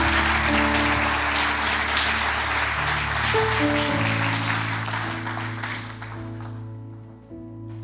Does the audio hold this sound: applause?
yes